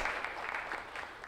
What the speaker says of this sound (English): The audience clapped